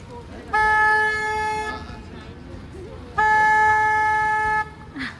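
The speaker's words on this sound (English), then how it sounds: "I'm going to honk the horn to announce our approach" Two long, loud blasts of a car horn, each over a second, separated by a short pause, close by over a low engine rumble.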